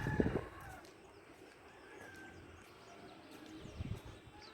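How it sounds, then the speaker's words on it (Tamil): A rooster crows faintly in the morning, distant and thin against a quiet outdoor background, with low rumbling thumps near the start and again toward the end. "காலைல இந்த கோழி கூற சவுண்டு"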